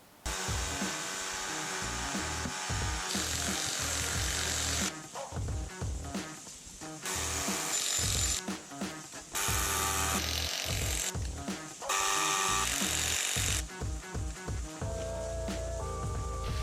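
A power drill grinds and whines into a rock cliff in long loud bursts with short pauses between, harsh and close, and no talking.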